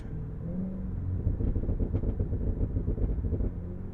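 Exhaust overrun from a Cadillac Escalade V, a deep rumbling burble with irregular pops and crackles layered over the low engine drone, loud and close for the whole stretch.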